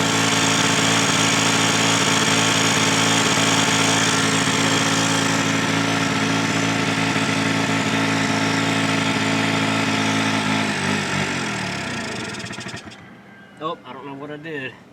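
A 1986 Honda Spree scooter idles close up with a steady, buzzing small-engine drone that runs for about twelve seconds, then sputters and dies, followed by brief faint sounds.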